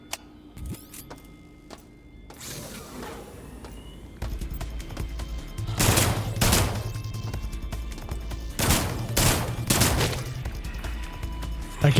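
In an insect simulator video game, a gun fires in several sharp bursts, loud and close, separated by quieter background stretches.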